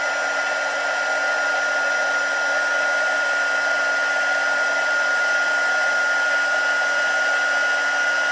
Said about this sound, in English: we're just going to heat emboss that gorgeous sentiment